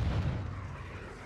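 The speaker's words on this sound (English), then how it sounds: "Hostile cruise missile launched." A cruise missile blast in a video game lands as a deep, heavy boom at the start, then fades into a low rumbling tail.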